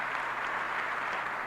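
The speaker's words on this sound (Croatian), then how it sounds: "Give the translator a round of applause." An audience applauds at a motivational talk, a dense even wash of clapping held at a steady moderate level for the whole stretch, no voices over it.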